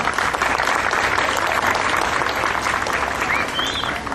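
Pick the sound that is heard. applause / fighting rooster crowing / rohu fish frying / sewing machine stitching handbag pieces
applause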